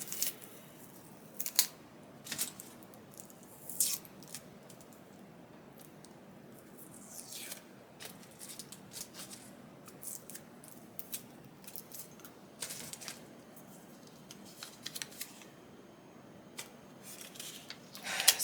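Tape being peeled and pulled off sublimated shot glasses, bursts of crisp ripping and crackling separated by quiet pauses, close and fairly faint, no talk.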